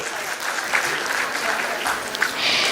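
A crowd at a school annual function claps steadily in sustained applause, a dense, even patter of many hands that holds throughout.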